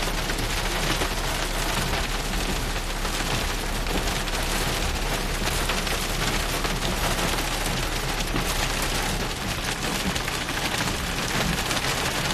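Hail and rain pound down in a dense, unbroken roar during a thunderstorm near Stockton, California, loud and steady throughout with no voices.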